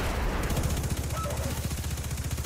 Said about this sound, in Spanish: con el ruido de sus disparos